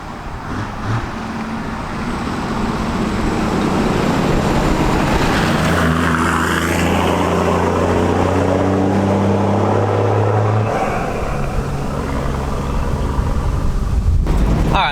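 A Toyota Landcruiser's 1HDT turbo diesel with a 3-inch straight-piped exhaust, running loud and close, its deep droning note swelling as it revs and then settling back toward idle.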